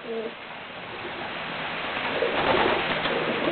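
A female high-flying racing pigeon coos softly nearby, low repeated calls over a steady hiss of background noise.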